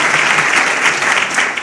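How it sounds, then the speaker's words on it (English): An audience at a town's State of the Town Address claps in a steady, dense round of applause, close and loud for the whole short stretch. "If I could have a round of applause for everybody at the Chamber staff and for AJ and his team"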